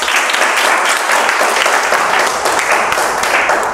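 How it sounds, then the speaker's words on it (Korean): Dense, loud applause from a student audience at a church youth-group sermon fills the whole stretch, steady broadband clapping with no voices on top. "박수!"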